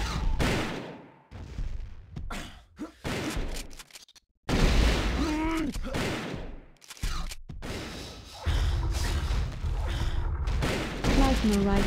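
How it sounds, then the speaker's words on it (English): Rapid bursts of plasma rifle fire in a multiplayer shooter game, with loud repeated shots, gaps, and heavy impacts layered over other game effects. "Plasma rifle."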